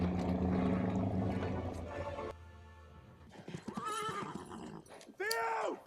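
A horse whinnies loudly and repeatedly in a fantasy scene facing a troll, the neighs rising and falling in pitch over a busy mix of dramatic music and commotion, with a final close, piercing whinny.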